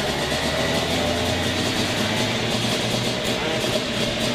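A racing kart engine, a 206 or shifter at a karting complex members' day, runs with a steady, loud, continuous drone, close by and unbroken for the whole stretch.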